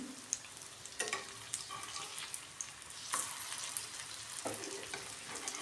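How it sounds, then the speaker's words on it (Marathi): Leftover rice snack pan-frying as one side browns, a steady close sizzle and crackle with scattered spatter pops and a few louder stirring or scraping knocks, no voices. "थोडंसं एका साईडनी भाजलं की आपण दुसऱ्या साईडनी पण व्यवस्थित भाजून घेऊ"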